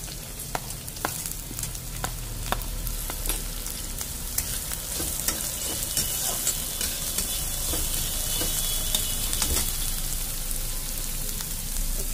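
Onion frying in a pan for a spicy potato sandwich, a steady dense sizzle that holds loud throughout, with sharp stirring taps and scrapes early on.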